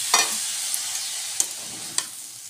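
Boiled chickpeas frying in a pan, a soft continuous sizzle broken by a few sharp spatula scrapes and clinks at irregular moments.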